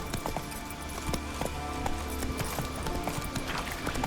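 Hooves of Roach, Geralt's horse in The Witcher 3, clip-clop in a steady rapid rhythm close by, crisp repeated strikes over a continuous bed of ambient game noise.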